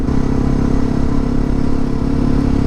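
Motorcycle riding on a gravel road on an adventure route, its steady engine drone running loud and close throughout, with crunching tire clatter over loose stones and no talking.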